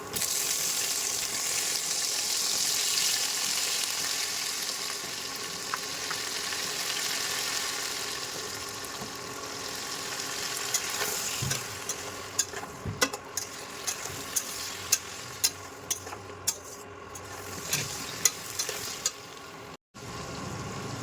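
Steady sizzling of onions, then aubergine and potato, frying in hot oil, with occasional sharp clicks and pops from stirring later on.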